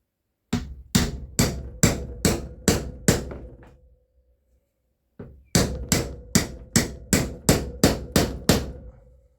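A hammer drives a tailshaft bushing into a Torqueflite 904 transmission with two sharp, loud metallic series of about seven and ten evenly spaced blows, separated by a pause of near silence.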